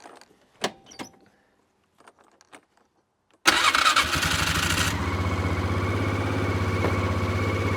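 A neglected ATV engine is started with the choke on: a few quiet clicks and pauses, then it catches abruptly and settles into a loud, steady running drone.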